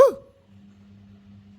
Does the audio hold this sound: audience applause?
no